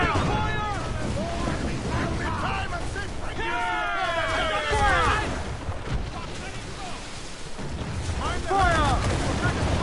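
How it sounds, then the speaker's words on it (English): Naval cannon fire rumbles through a sea battle in Assassin's Creed IV Black Flag, deep booms under wind and water noise with shouted crew voices over the top. "They are firing, sir!"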